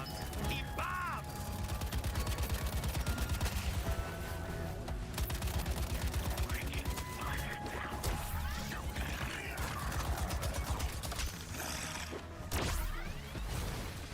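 Dense, continuous gunfire and explosions from a Suicide Squad: Kill the Justice League video game battle, with rapid shots, crashes and whooshes layered over a steady loud action soundtrack, with a voice talking in the mix.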